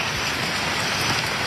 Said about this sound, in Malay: Cuaca pun hujan juga.